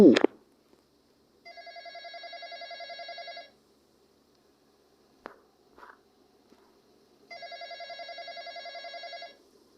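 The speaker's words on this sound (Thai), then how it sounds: "โทรศัพท์เข้า" Telephone ringing in the Roblox game The Intruder: two electronic trilling ring bursts a few seconds apart, clear and close, with near silence and a few small clicks between them.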